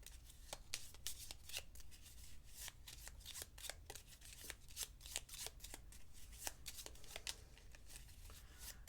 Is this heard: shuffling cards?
yes